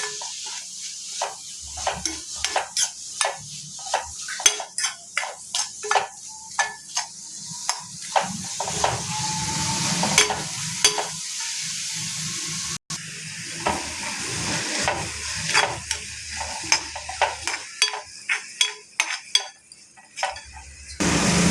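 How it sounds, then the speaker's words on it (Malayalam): Masala is stirred and sautéed in a frying pan for paneer masala, with repeated sharp clinks and scrapes of a spoon against the pan over a steady sizzling hiss, close and with no talk. "അപ്പം നമുക്കിനി നന്നായിട്ട് ഇളക്കി വഴറ്റിയെടുക്കാം."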